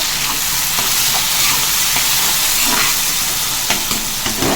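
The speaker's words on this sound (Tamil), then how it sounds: "தக்காளி போட்டு நல்லா வதக்கிட்டு" Tomatoes added to softened onions sautéing in a pan for drumstick thokku, a loud continuous sizzle and hiss close by, with scattered clicks of a spoon stirring, no voices.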